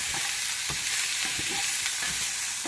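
A vegan Panang red curry base cooks in a pan, hissing with a constant bright sizzle and a few soft stirring scrapes, close up and even in level, with no voices.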